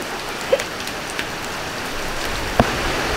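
Steady rain falling outdoors while someone walks through it, a continuous soft hiss of drops on surfaces with a couple of brief louder splashes or taps, no talk.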